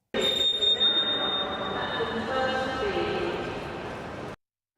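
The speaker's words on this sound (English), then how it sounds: "The first one is a squeak sound recorded at an airport." A high, thin squeak at an airport rings out near the start over a dense wash of broad ambient noise, then fades into the continuing background hubbub before cutting off abruptly.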